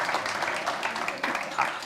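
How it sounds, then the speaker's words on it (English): An audience at a township state-of-the-township address gives a short burst of applause, a soft, diffuse clatter of many hands heard from a distance. "You can clap now."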